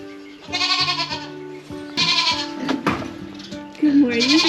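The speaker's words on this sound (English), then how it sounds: "let's go let the goats out" Goats on a homestead bleat repeatedly and loudly at close range as they are let out, several overlapping wavering calls, with a person talking between them.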